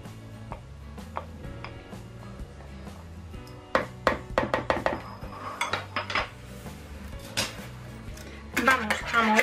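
Vinegar and mustard stirred in a bowl: quick clinking taps of a utensil against the bowl, sparse at first and then a busy, irregular run of clicks, close and moderately loud over soft background music.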